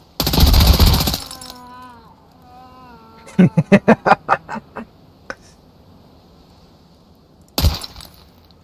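Gunfire in Escape From Tarkov comes as a rapid burst of about eight sharp shots in quick rhythm. A loud voice speaks before the burst, and another loud vocal outburst follows it.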